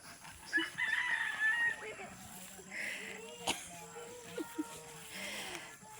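Hens clucking and a rooster crowing in an outdoor rural yard by a lake in Negros, Philippines, the calls moderately distant and intermittent over steady background noise, with a voice talking at times.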